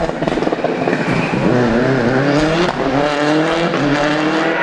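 The dominant KPL rally car drives a clockwise forest stage at the 2006 Lurgan Park Rally, its engine screaming loud and close as it revs through the gears, with rising and falling pitch and a brief tire squeal.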